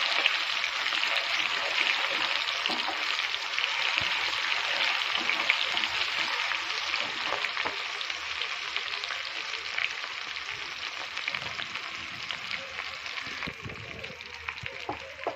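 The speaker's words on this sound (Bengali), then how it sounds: "এবার আমি টমেটোটাকে ভালোভাবে কষিয়ে নেব" Chopped tomato frying in oil for a pabda fish mustard curry, giving a steady broadband sizzle that holds evenly for the whole stretch with faint stirring scrapes.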